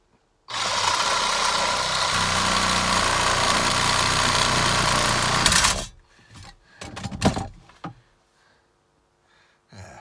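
Electric tool cutting to shorten a piece, a loud continuous buzzing whine for about five seconds, then stopping, followed by a few brief handling knocks.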